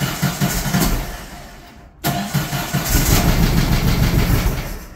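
A 1600cc VW dune buggy engine, misfiring on three cylinders, runs continuously with a lumpy, uneven idle, briefly cutting out for a moment before catching again and running on, close by.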